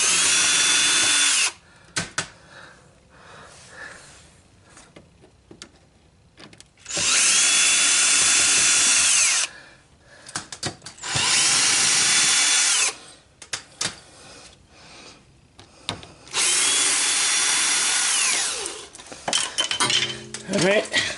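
Power drill running in several long bursts, unscrewing trim from the fender of a Lexus LS400, with quieter clinks and handling noises between the close, loud whirs.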